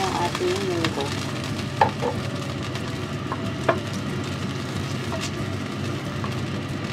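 Mung beans hitting hot oil with sautéed ginger and garlic, giving a steady broadband sizzle with a couple of sharp clinks of a utensil against the pan, fairly close and without talk.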